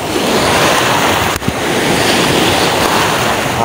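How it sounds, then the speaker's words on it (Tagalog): Steady, roaring wind buffets the microphone with a dense rushing noise throughout, dipping for a moment near the middle before returning just as strong. "hangin to guys."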